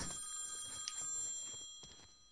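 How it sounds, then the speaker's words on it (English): A phone rings faintly in a Fortnite horror map, a thin electronic trill repeating over a low, steady game ambience with no talking. "Why would I just answer a random phone?"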